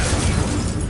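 Incendio fire spell going off in Hogwarts Legacy, a loud, dense burst of fiery roar and crackle filling the whole short moment without any talk.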